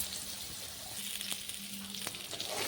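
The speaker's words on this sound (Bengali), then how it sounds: "সব পটলগুলো এই তেলের মধ্যে ভেজে নিতে হবে।" Pointed gourds (potol), slit at both ends, frying in oil in a pan: a continuous close sizzle and crackle with a few sharp pops, and no speech.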